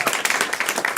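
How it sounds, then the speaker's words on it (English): A live comedy show audience claps in a quick, scattered burst, many hands close together and fairly loud, with no speech over it. "Clapping for a clean show."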